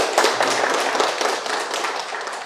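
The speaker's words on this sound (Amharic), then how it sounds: "አንዴ አጨብጭቡልኝ በድጋሚ።" A room full of people applauds at a corporate ERP system handover ceremony for a concrete manufacturing company, with dense, steady clapping that fades slightly toward the end.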